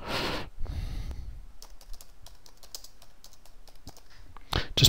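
Single crisp key taps on a computer keyboard as the tab key is pressed while editing an outline, sparse clicks spaced over a few seconds, close and fairly quiet, with a couple of louder bursts at the start and end.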